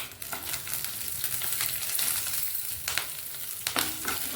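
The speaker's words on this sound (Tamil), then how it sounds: "இது கொஞ்சம் லைட்டாக வறுத்த பிறகு இந்த காஞ்ச மிளகாய் கம்மியாக இருக்குது, 4 பச்சை மிளகாய்" Dried and green chillies roast in a pan for a brinjal chutney, making a continuous close sizzle with a few sharp scraping stirs and clicks scattered over it.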